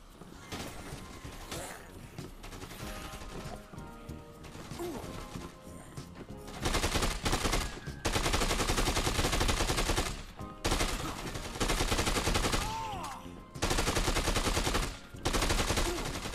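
Assault rifle gunfire in Dead Rising 2, loud sustained automatic bursts separated by short pauses, following a quieter stretch of game sound with faint talk.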